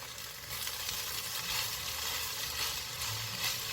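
Garlic sizzles steadily in a pot for kielbasa cabbage soup over heat just above medium, making a continuous, even frying hiss with faint stirring and no talking.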